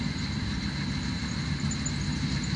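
A farm tractor, likely a Case, idles during hay baling, giving a faint, steady low rumble with a constant hiss and no voices.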